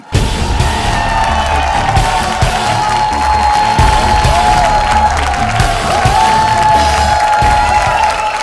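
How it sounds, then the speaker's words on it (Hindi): The audience on a Bhojpuri TV dance competition show claps and cheers continuously and loudly, a dense wash of applause and whoops with music or tones ringing underneath throughout. "अब तनी कचकचा के ताली बजावा लोगन"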